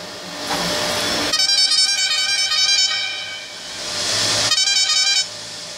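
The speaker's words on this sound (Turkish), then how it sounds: "Hadi bunun bütün kornalarını deneyelim." Two long blaring horn blasts with a buzzy, harmonic tone, separated by a breathy hiss, loud and close with no talking.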